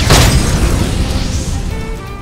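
A fire spell bursts in Octopath Traveler II, a single loud booming blast at the start that rolls into a crackling, fading rumble.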